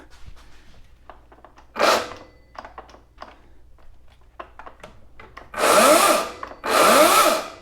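A Ryobi RY40508 18-inch battery electric chainsaw in a light test run: three short whirring motor bursts, near and loud, separated by quiet handling clicks and knocks.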